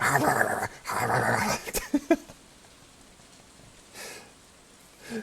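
A person vocally imitates a dog in a comedic meme bit, with loud growly, rough bursts in the first two seconds followed by a few short yelps, then quiet and faint rustles.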